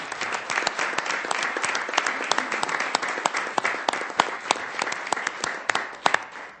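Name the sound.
audience applause at a city council meeting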